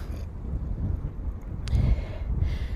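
Strong wind buffets outdoors by a lake in the Alps, a loud low rumble that swells and gusts against the microphone.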